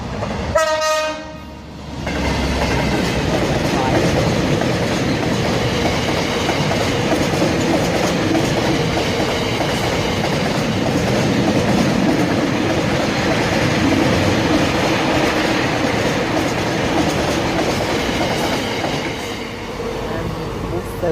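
A Great Western Railway Class 387 electric passenger train, two units coupled, runs through Slough on the Great Western Main Line, sounding its horn and then rolling past with a steady, loud roar and wheel clatter for about twenty seconds.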